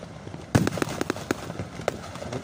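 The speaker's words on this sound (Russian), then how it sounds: "персональный салют для нас организован на нашем канале" New Year fireworks go off outdoors, a burst of sharp crackling pops after a quiet moment, scattered bangs continuing at a moderate distance.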